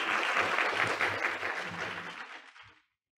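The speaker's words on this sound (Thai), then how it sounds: "ขอเสียงปรบมือด้วยนะครับ" Audience applause at a Thai genomic medicine seminar as an honoree goes up on stage to receive a souvenir, dense steady clapping that holds for over two seconds, then fades out and stops abruptly.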